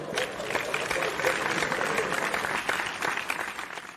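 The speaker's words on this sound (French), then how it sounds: "pouvons-nous applaudir pour accueillir" An audience at a religious gathering claps continuously to welcome a speaker, a dense, steady round of applause from a crowd close by.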